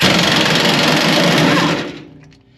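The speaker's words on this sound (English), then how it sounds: "You're just going to get your impact on there." Impact wrench on an 18mm truck bed bolt of a 2006 GMC Sierra, a loud continuous buzzing rattle held for about two seconds before winding down and cutting off.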